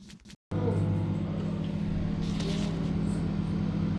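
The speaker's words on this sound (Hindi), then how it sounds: "हम कर लेते हैं कलेजी को माइक्रोवेव" A microwave oven reheats a dish of kaleji (liver), its steady loud hum and whir starting abruptly after a brief pause and droning on unchanged, close by.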